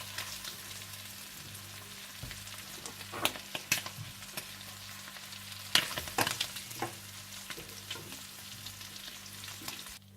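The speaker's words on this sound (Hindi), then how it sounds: "चार से 5 मिनट प्रॉन्स को फ्राई करने के बाद आप प्रॉन्स निकाल लें।" Prawns fry in oil with a quiet, steady crackling sizzle, broken by scattered sharper pops and spits and a few louder bursts near the middle.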